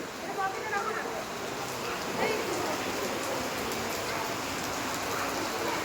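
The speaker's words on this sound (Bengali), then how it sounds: "বাইরে বৃষ্টি হচ্ছে।" Rain falls outside the Jalpesh temple, a continuous hiss of downpour and drops running the whole time beneath people talking nearby.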